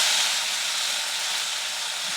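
Vegetables sautéing in a pan over high heat give off a loud, close, unbroken hissing sizzle from start to finish.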